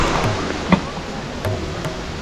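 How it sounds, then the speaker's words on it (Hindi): Waterfall at night near Bheembali on a mountain forest trek, heard as a steady broadband rush of falling water, distant and continuous, with a faint knock or two over it. "पीछे आपको झरने की आवाज़ आ रही होगी"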